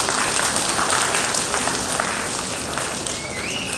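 An audience at a talk applauds a student's answer, a broad, sustained wash of many hands clapping together at moderate loudness, fading slightly toward the end with a brief whistle-like tone near the close.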